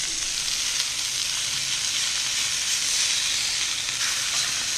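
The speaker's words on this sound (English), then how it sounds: "I say we get to twisting those burgers over." Burgers sizzle steadily on a hot grill while being flipped, a loud, continuous frying hiss with crackle that holds evenly throughout, no voices.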